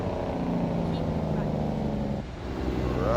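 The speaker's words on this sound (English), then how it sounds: "I definitely like the way that Packard engine sounds. I mean, listen to that turbo spool off when I let off." Mack R truck with a Packard engine in American Truck Simulator, a steady loud engine drone with a short dip and turbo spool-down as the throttle lifts, then the engine picking back up.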